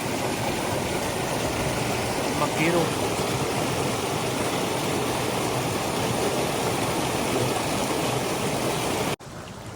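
An irrigation motor pump in a farm field pours out water in a loud, steady, continuous rush, close by. Someone speaks briefly over it, and the flow cuts off abruptly near the end.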